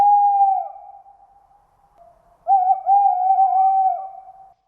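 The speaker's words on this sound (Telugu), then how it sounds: "ఈ గుడ్లగూబలు చేసే సౌండ్ కి కొండలు కూడా ప్రతిధ్వనిస్తూ ఉంటాయి." An Indian rock eagle owl at a quarry gives a sustained, tonal call. One drawn-out note fades away, and after a short gap a second wavering call follows, clear and alone.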